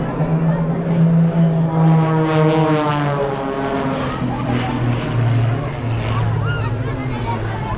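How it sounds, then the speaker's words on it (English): Propeller-driven aerobatic planes fly overhead at a KDF air show in the Museum Garden, their engine drone rising and swelling loudly as they pass, with people chatting close by throughout. "I think those are four planes, like just like aerobats, aerobatics."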